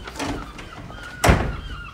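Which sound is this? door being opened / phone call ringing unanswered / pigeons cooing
door being opened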